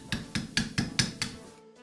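Chisel driven by sharp mallet blows into pre-drilled holes while cutting a Japanese sawhorse: six evenly spaced, ringing knocks in a steady rhythm, close and fairly loud, with no talking.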